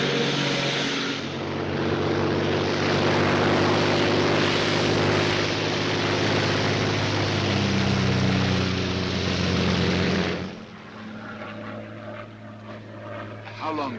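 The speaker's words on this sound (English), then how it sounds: "a Royal Air Force plane is waiting for us at a secret landing place" A Royal Air Force propeller airplane in flight from a 1943 film, a loud, steady engine drone that suddenly drops to a quieter cabin hum near the end.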